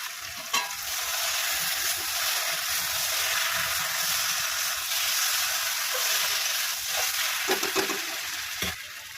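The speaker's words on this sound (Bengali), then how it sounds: "গোবিন্দভোগ চালটা যে ভেজে রেখেছিলাম, হালকা ভেজে রেখেছিলাম, সেটা দিয়ে আমি কষিয়ে নেব" Lightly roasted Gobindobhog rice is fried with fish and potato for muri ghonto, producing a dense, steady, close sizzle. Several louder scraping stirs break through near the end.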